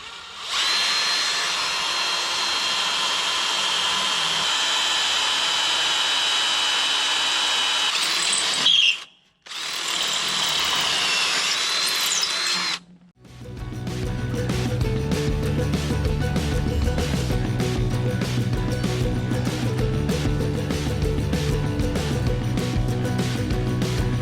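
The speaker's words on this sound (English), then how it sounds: "And now that they're ground down, I'm just going to try to drill them out." A power drill bores out ground-down parts on a 1940s Chevy trailer frame, a loud, steady whine with two brief stops before it resumes in a lower, grinding tone, close and alone.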